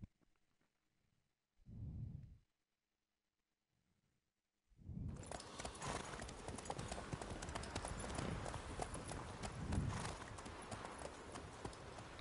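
After near silence and a soft thump, a horse's hooves clip-clop at a steady trot over continuous rushing noise, fairly close and prominent, in the video game The Witcher 3: Blood and Wine.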